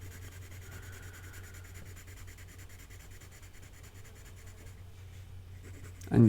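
Mitsubishi Uni No 888 colored pencils in vermilion and sky blue shading on paper: a steady, soft scratchy rubbing that continues evenly and alone beneath a faint low hum.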